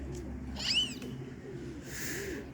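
Pigeons in a city square in Zhytomyr, with a soft low cooing hum running steadily underneath and a brief fluttery call near the start, faint against light background ambience.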